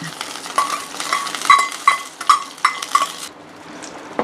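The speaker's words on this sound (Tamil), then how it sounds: "தாளிச்சதை இதில் ஊற்றிக்கலாம் சட்னியில்" A hot tempering of curry leaves and dried red chili is poured into a chutney served with ragi adai. It gives a loud burst of sizzling with spoon clinks against the pan, then drops away quickly to near quiet.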